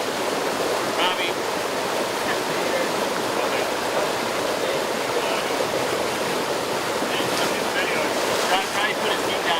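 River water rushes in a steady, loud, broadband roar during a rescue squad water drill, a continuous wash of current that fills the whole stretch without letup, with faint voices buried underneath.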